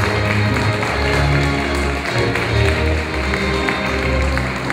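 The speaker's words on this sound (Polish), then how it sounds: "Jeszcze raz wielkie brawa!" Wedding guests applaud after the first toast at a reception in Bytom, Silesia, a steady dense clapping from a crowd that fills the whole stretch beneath music and room noise.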